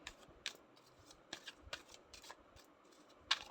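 Tarot cards being shuffled, a quiet, close series of crisp riffles and slaps with irregular spacing and one sharper snap near the end.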